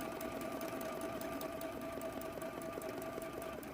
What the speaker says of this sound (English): then we're going to move over to the sewing machine.